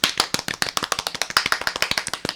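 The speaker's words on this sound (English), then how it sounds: "a round of freaking applause" A quick, brisk round of hand clapping from a few people, close and crisp with rapid even claps through the whole short stretch and no talking.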